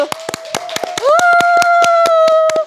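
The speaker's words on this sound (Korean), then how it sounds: "정말 박수." A few people in a baseball talk-show studio clap at a quick, steady beat to welcome a guest, loud and close, while a voice holds a long sustained tone underneath.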